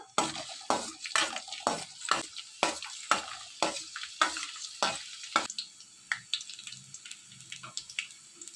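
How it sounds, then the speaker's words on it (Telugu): Chopped garlic frying in hot oil for masala pasta, with a spatula striking and scraping the pan in a quick regular rhythm over a light sizzle, the strokes becoming sparser and softer toward the end. "వెల్లుల్లిపాయ ముక్కలు వేసుకున్న తర్వాత అవి వేయించుకోవాలి కొద్దిగా"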